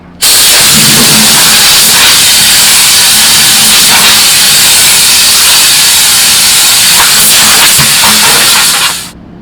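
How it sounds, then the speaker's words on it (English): An air blower blasts debris out of a tire, a loud, close, steady rushing hiss that starts abruptly, holds for about nine seconds and then cuts off. "Take a blower, blow whatever debris in there out."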